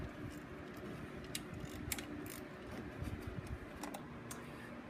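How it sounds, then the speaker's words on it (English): A ratchet loosening 10mm bolts from the cam sensor on an Audi 1.8T engine, faint fast clicking in short bursts over a steady background hum. "I got the bolts removed from the cam sensor"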